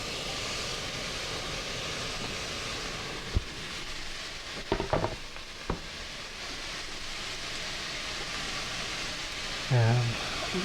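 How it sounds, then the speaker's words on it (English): Chopped onion and carrots sauté in a pot over leftover beef fond for a Guinness beef stew, giving a steady broadband sizzle broken by a few brief utensil knocks and a short low rumble near the end. "And we're going to saute that probably about 8 minutes, scraping up all that meat fond at the bottom"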